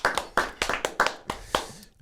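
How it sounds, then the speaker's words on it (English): A small audience applauding a guest, about eight distinct close claps in an uneven burst over two seconds, fading out at the end with no talking. "Is there a round of applause?"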